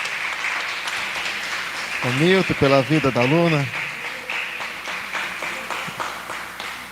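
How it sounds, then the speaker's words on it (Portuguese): A church congregation applauds during a family worship service, steady clapping running under a man's speech and a brief melodic vocal passage. "Você pode aplaudir ao nome de Jesus pela vida"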